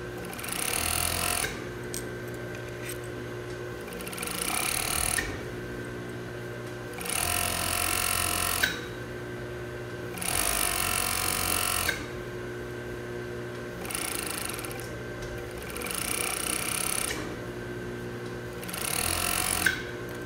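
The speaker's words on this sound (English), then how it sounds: "I like to serge the edge of the hem before I put the tape" A serger overlocks the edge of a dress hem in several loud, steady bursts, each a few seconds long with short pauses between, the buzzing stitching close and alone with no talk.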